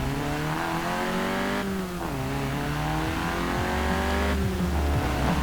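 A small, lightweight hot hatch in Forza Horizon 4 drives with a steady, loud engine drone that rises through the revs, drops briefly at a gear change, then climbs again with no talking.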